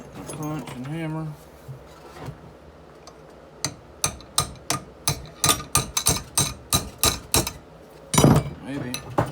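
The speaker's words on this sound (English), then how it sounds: "Take my punch and hammer." Punch and hammer knock a rivet through a Z Trap trigger on a trap, a quick run of sharp metallic strikes in uneven rhythm, loud and close, after a person talks at the start.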